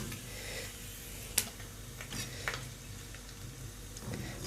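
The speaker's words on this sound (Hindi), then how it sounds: "तो मैं कुछ फ्राई कर रही हूँ और थोड़े थोड़े छोटे डाल रही हूँ ताकि मेरे गोलगप्पे जो है वो जल ना जाए" Small gol gappay puris frying in hot oil: a low, steady sizzle and bubbling throughout, with a few faint clicks and taps from a utensil against the pan, and no talking.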